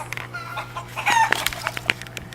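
Chickens cluck and a rooster crows in a short burst, with scattered fowl calls close by over a steady low background hum.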